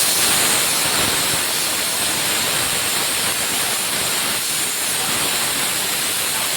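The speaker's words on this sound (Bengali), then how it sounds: "পেঁয়াজটা লাল লাল করে ভাজা হয়ে গেছে" Onions frying in a pan for chicken curry, a steady, loud broadband sizzle and hiss that holds evenly throughout with no talking.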